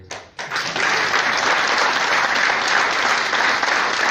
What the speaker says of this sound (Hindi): फिर से तालियां बजी